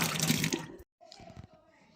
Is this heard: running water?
yes